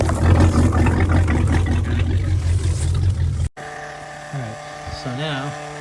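Inboard engine of a Ski Nautique boat idling during warm-up for winterizing, a loud low steady rumble for a few seconds before an abrupt cut, followed by a quieter steady hum with a voice speaking over it.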